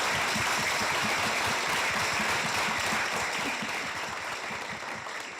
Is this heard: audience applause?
yes